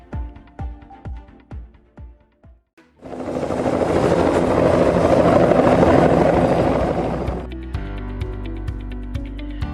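A Border Security Force Air Wing ALH helicopter, with rhythmic rotor thumps at first, then a loud sustained engine and rotor roar close by, settling into a steadier drone at the end.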